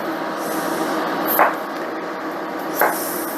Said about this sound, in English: let me chop these up and we'll be back in a bit.